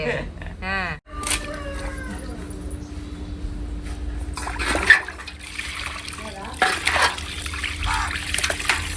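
Fish being rinsed and washed by hand in water, with splashing, trickling and dribbling throughout at close range and a voice talking over it.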